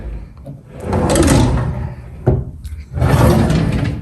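Wooden kitchen drawers in a new UK apartment slide open and shut, two loud, close rumbling glides with a brief knock between them.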